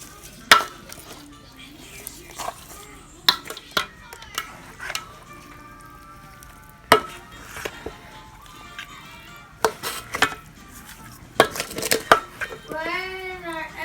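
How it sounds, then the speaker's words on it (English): A spoon clinks and scrapes against a bowl while oxtail marinade ingredients are stirred, with scattered knocks and taps between bursts of talking and a voice. "We're gonna go ahead and give this all a nice big stir."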